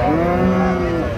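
A small dairy cow at a Saturday cattle market in Sharatnagar gives one loud, close, drawn-out moo, with a little market noise behind it.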